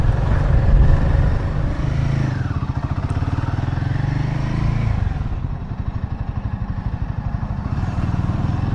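A Royal Enfield Himalayan motorcycle rides along a road with a steady, thumping single-cylinder exhaust pulse, close and continuous, the engine note rising and easing slightly as it cruises.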